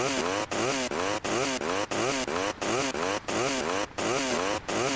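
Chainsaw sound effect from Grand Theft Auto: The Definitive Edition, glitched into a loud stuttering loop of rapid revving bursts with brief gaps, repeating about twelve times with no talk.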